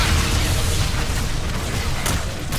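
Loud, dense booming explosions fill the whole stretch in Call of Duty: Infinite Warfare, a sci-fi future shooter, with a continuous low rumble and scattered bursts layered on top.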